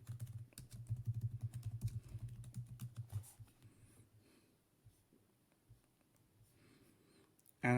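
A computer keyboard clicks in a quick burst of close typing that gradually thins into scattered, quieter keystrokes, with a low hum and faint breathing underneath and a sharp clunk at the very end.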